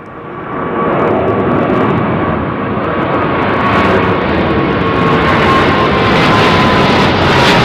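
A Virgin Atlantic Airbus A330neo jet departs Heathrow runway 09R, a loud, steady roar that builds within the first second and holds broad and powerful throughout, with no talk over it.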